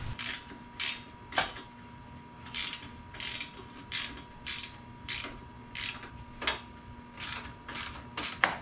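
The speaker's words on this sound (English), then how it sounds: "I'm gonna go ahead and tighten everything up" Bolts on a spare tire carrier for a Can-Am Maverick X3 being tightened, heard as a steady series of evenly spaced ratcheting clicks, close and moderately loud, with no talking.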